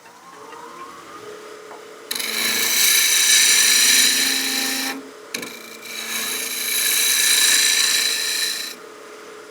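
A wood lathe turns a bat house ornament as a cutting tool scrapes steadily against the spinning wood in two long passes separated by a brief pause, over a low motor hum.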